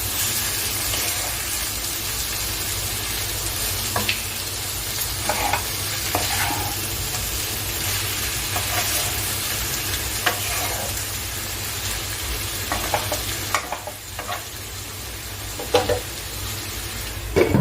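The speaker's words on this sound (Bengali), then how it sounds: "গ্যাসটা সিম করে আমি এই মশলার সঙ্গে একবারে ভাজা করে নেব লতিটাকে" Taro stolons fry with spices and shrimp in a pan over low gas, giving a steady, close sizzle with occasional stirring scrapes throughout and no talking.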